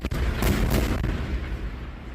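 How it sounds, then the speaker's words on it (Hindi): A big explosion after an Israeli strike in news footage booms with a heavy low-frequency roar and a sharp initial crack. "इजरायली हमले के बाद बड़ा विस्फोट विद द वीडियो"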